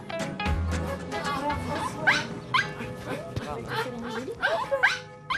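Snoopy, a dog in a mobile grooming van, gives short high barks and whimpering yips close up, broken and irregular, mixed with background speech and knocks.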